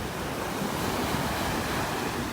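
Ocean waves wash onto a beach in North Naples, Florida, a continuous loud broadband roar of surf mixed with wind buffeting the microphone, with no voices.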